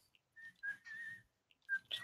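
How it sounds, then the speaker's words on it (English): Short whistled tones come in a few separate bursts, faint and close, with small gaps of quiet between them. "What is that like whistling?"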